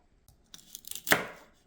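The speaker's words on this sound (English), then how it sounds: "After chopping the ends" A few light taps build to one sharp knife chop through something crisp, close up, then a short fade.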